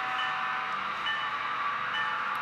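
Model train rolling out of a control point on a signalled layout, a steady continuous running hiss and hum at moderate level throughout, with no talk over it.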